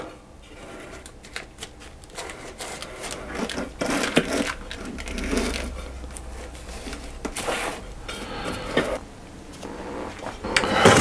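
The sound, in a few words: spreading cake batter in a baking tin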